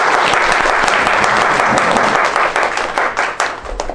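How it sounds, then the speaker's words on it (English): Sustained applause from an audience at the CYC International Women Award presentation in Toronto, dense and steady clapping that stays loud throughout and thins slightly near the end. "Please give a round of applause."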